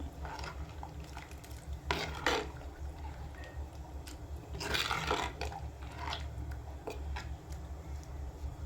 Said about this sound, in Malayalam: അപ്പോൾ നമുക്കിനി ഇതൊന്ന് ഇളക്കി കൊടുക്കാം